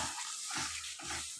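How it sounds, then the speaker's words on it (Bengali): Water with ground spices poured into a pan of prawn and potato curry, a few short splashing gushes in quick succession, close and quiet, with no talking. "এই জলটা দিয়ে দিলাম, এই যে বাটা জলটা।"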